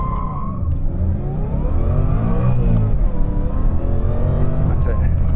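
A Mustang GT or Dodge Viper launches hard with traction control off, its engine revving loud and continuous with rising and falling pitch sweeps as the rear wheels spin.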